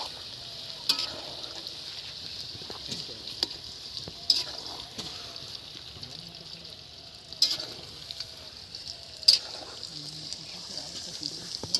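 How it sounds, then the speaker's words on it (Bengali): Chicken pakora frying in hot oil, a soft steady sizzle with occasional stirring clinks and scrapes, close by at a low level. "এইভাবে ভেজে ভেজে সবগুলো তুলে নেব।"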